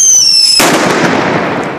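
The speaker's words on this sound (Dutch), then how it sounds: "Harde knaller, weg!" Firecrackers and fireworks go off during New Year's celebrations in Rotterdam Noord: a sudden loud blast after a high whistle, followed by a long crackling, sizzling rumble that slowly fades.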